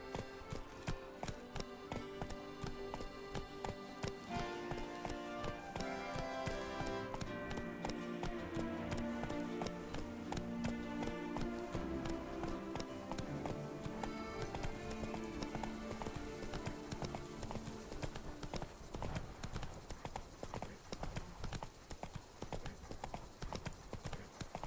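Roach, the horse in The Witcher 3, gallops with rapid, rhythmic clip-clop hoofbeats that carry on steadily for the whole stretch, laid over a game music bed, with no talking.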